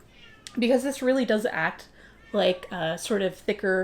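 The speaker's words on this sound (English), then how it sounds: "Sorry, if you hear meowing, that is a large tabby, and he thinks that it is dinner time." A large tabby cat meows repeatedly for dinner, the calls mixed closely with a person talking indoors.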